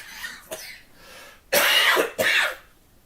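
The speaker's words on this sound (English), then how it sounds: "I'm still coughing like I'm freaking have asthma or something." A person with a lingering chest cold coughs: a faint cough or two, then two loud harsh coughs in close succession, with no talk.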